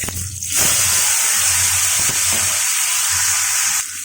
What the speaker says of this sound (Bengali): ওই তেলের মধ্যে আমি আলু আর মূলোটা ভেজে নিচ্ছি।